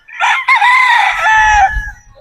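A gamefowl rooster crows loudly and close, one full drawn-out crow with a brief break near the start, followed by faint low rustling at the end.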